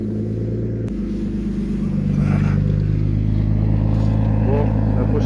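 A rebuilt BMW turbo engine running on ethanol idles with a steady, smooth low rumble that swells slightly louder partway through, holding an even tone close by.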